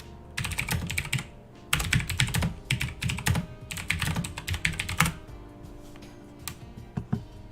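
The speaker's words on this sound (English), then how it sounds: "pardon the extremely loud keyboard clicks you're about to hear" Rapid, loud clicking of computer keyboard keys in irregular bursts of typing, close up, with brief pauses between flurries.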